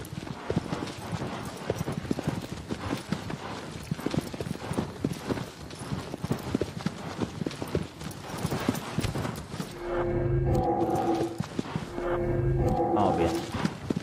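Horse hooves gallop in Shadow of the Colossus on PS4 in a fast, steady clip-clop that runs the whole time, with a louder low rumble and tonal game sounds rising near the end.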